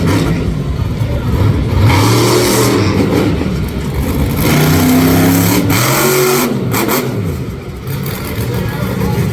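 A big monster truck engine roars and revs hard at a live event, rising and falling in pitch, loud and close, with crowd or commentary noise mixed underneath.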